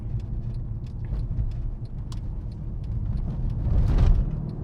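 A 2012 Mercedes-Benz CLS63 AMG large sedan accelerates through turns, its engine a steady low rumble that swells toward the end, heard from inside the car without talk.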